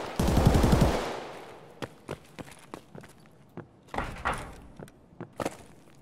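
Gunfire in the video game Escape From Tarkov aimed at a player in a tower: a loud, rapid automatic burst opens the clip, followed by scattered sharp single shots and short volleys at varying distances.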